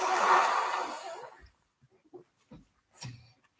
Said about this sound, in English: blowing her nose